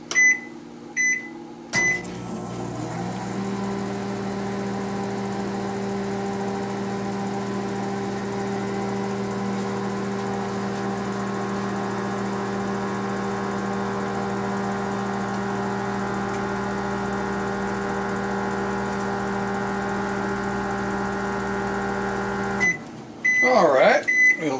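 A microwave oven hums steadily for about twenty seconds while cooking a Just Crack An Egg Denver Scramble, beginning after a few button beeps and ending with a door click and chime.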